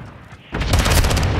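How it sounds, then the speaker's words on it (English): A grenade explodes in the video game Call of Duty: Modern Warfare II. After a quiet start a sudden loud, broad boom hits and keeps rumbling to the end of the clip. "Throwing grenade."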